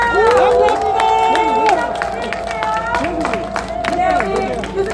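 A rally crowd gives a round of applause for a speaking professor, clapping mixed with cheering and raised voices, steady and fairly loud for five seconds.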